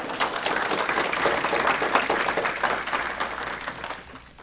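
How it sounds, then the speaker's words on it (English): Audience members at a school board meeting applaud, a sustained round of many hands clapping together that holds steady before fading near the end. "Please give her another round of applause."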